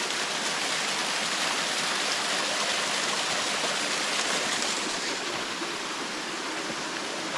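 A mountain stream on the Feldberg hiking trail in the Black Forest rushes in a steady, loud, close broadband wash of flowing water, unbroken and with no talk.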